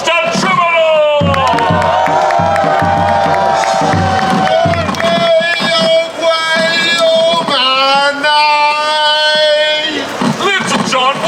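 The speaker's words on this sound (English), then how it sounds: "give another cheer for the Tolston Troubadour!" Loud crowd at a Renaissance faire cheering, whooping and hollering for a troubadour, a sustained roar of voices with shouts swelling and rising in waves before trailing off near the end.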